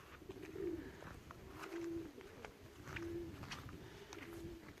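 Racing pigeons coo softly in a repeated, evenly spaced pattern, several low calls in a row at a quiet, close distance with faint background rustling.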